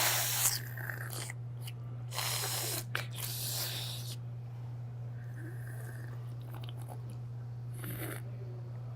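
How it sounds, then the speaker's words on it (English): Olive oil slurped and sprayed through the mouth during a tasting, with a few loud airy hissing bursts followed by softer sucking and breathy noises over a steady hum. "And when you sip it, try to spray it. Spray it all over your mouth."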